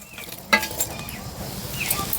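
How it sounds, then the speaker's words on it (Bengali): Carrot pithas slipped into warm sugar syrup, giving one soft splash-like onset followed by faint clinks and gentle stirring noises, close and fairly quiet. "এবার পিঠেগুলো ছেড়ে দেব।"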